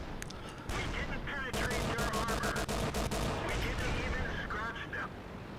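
Tank guns and a Tier 3 T-82 tank destroyer howitzer firing in World of Tanks, heard as a dense run of rapid, loud booming shots over continuous battle noise, with a voice talking throughout.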